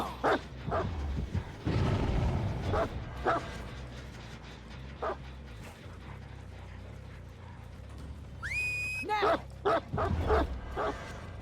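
The Houndmaster's dog in the game Dead by Daylight yips and whimpers in short repeated bursts amid game noise and a rising mechanical whine, with a person talking over it.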